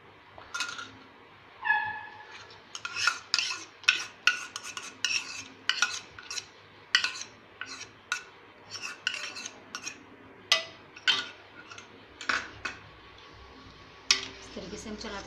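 A spoon stirs milk powder into thick rabri in a pan, giving a steady run of sharp scraping clinks against the metal at close range, with a faint voice in the background.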